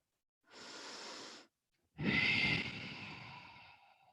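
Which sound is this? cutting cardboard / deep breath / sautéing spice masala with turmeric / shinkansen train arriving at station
deep breath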